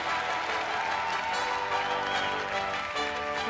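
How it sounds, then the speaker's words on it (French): An audience applauds for Maeva at the finale of a modelling contest, steady clapping mixed with music and crowd noise throughout. "On a tonnerre d'applaudissements pour Maeva"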